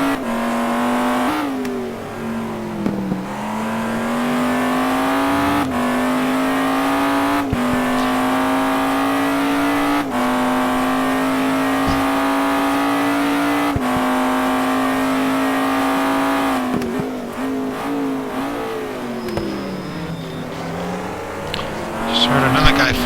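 A GT2 race car on a hot lap at Sebring in a racing game holds a loud, sustained engine drone that shifts pitch through gear changes and braking, with a commentator talking over it.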